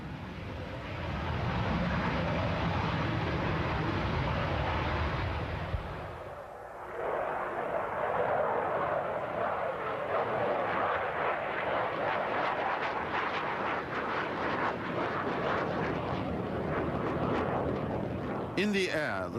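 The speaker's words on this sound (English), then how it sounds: "It is the first flight of the E-155, the prototype of what was to become the MiG-25." The Soviet E-155 prototype of the MiG-25 jet roars on its first flight in a broad, sustained rumble that dips briefly partway through, then swells back to a steady roar, fairly distant and moderately loud.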